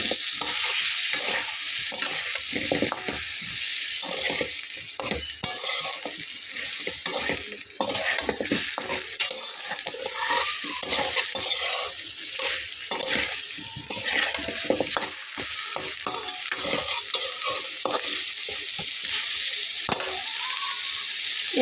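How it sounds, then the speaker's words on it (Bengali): A vegetarian curry with green chili and potatoes sizzles steadily in a hot pan as it is stirred and fried. Frequent scraping strokes of a spoon against the pan repeat across the whole stretch, close up and with no speech. "কষানোর পর্যায়ে আমি এটাতে একটা কাঁচামরিচ দিয়ে নেব।"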